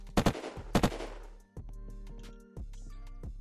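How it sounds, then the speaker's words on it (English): Several sharp gunshots from the game Unturned crack out near and loud early on, two clustered bursts followed by softer thuds and in-game tones. "No, I was shooting."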